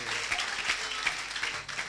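A church congregation applauding in praise, steady dense clapping from many hands, moderately distant and even throughout.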